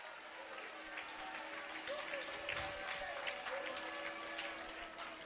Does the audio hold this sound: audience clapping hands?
yes